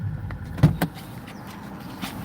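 A car door is opened from inside the vehicle, giving two sharp clunks close together over a low idling rumble, with no talking.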